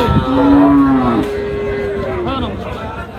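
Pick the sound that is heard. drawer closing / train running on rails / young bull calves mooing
young bull calves mooing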